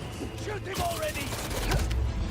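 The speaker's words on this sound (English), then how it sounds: "Shoot him already." Gunfire in Marvel's Spider-Man 2 crackles in a quick volley of sharp shots and impacts, mixed with other game noise and voices.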